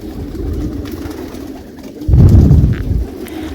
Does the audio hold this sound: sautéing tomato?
no